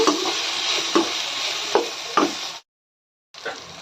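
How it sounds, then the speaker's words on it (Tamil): Brinjal sautés in hot oil for a dry fish curry, a steady close sizzle broken by a few sharp spatula knocks on the pan, then a brief silence and a short return of the frying. "இதை நல்லா எண்ணெயிலே வதக்கி விட்டோன்னா டேஸ்ட் அட்டகாசமாக இருக்கும்"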